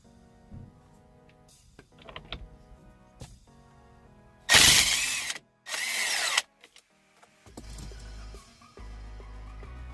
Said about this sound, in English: Since I have electric impact guns, That's what I'm going to be using.